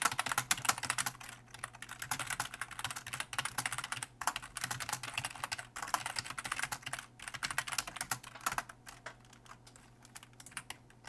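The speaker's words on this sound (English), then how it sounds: "Listen to the relaxing sounds of the keyboard typing." Computer keyboard typing during a Minecraft session, a dense, continuous patter of rapid key clicks held at steady loudness, close and alone with no talking.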